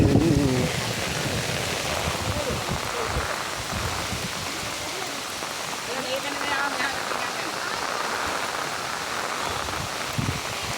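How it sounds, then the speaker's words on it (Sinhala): Canal water spilling over its banks rushes in a steady, broadband roar, loud and continuous throughout, like heavy flowing water close by. "ඇල වාන් දානවා."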